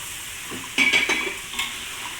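Eggs sizzle quietly in a pan of spicy, slightly sour tomato sambal while a spoon stirs and scrapes a few times, soft and close.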